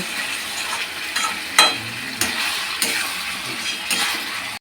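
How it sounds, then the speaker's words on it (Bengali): Food is cooked at a Janmashtami fair, with a continuous sizzle of frying and a few sharp scraping or clanking strokes at intervals, close by and with no talk. "ও কি রান্না হচ্ছে, গন্ধতেই আমার খিদে পেয়ে গেল"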